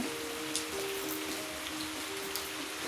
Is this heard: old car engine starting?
no